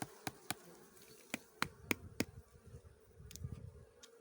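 Quiet buzzing of bees around a hive drifts in and out, mixed with a series of sharp clicks and knocks from handling half-filled honey frames, spaced irregularly nearby.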